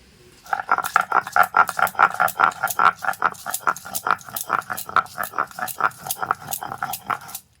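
Green chilies and mustard seeds being ground into a paste make a rapid, regular run of scraping, rattling strokes, close and fairly loud, continuing steadily with no talk.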